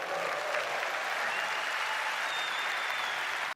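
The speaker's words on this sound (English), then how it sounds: "I got the loudest clap for the partnership." A keynote audience applauds a partnership announcement involving Nvidia and Apple's Vision Pro, a dense, steady wash of clapping from a large crowd that holds throughout before cutting off abruptly.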